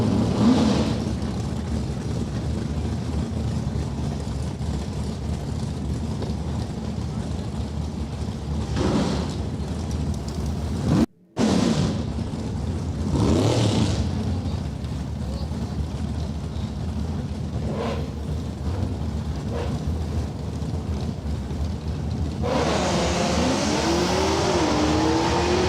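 Drag race cars roaring down the strip at an NHRA Super Quick event, engines rising to a loud sustained rumble mixed with wind buffeting, and a brief cutout midway.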